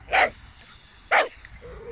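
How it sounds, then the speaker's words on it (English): Two sharp, mid-distance dog barks about a second apart, with a faint whimper-like tail afterward. "Some more doggos having a bark."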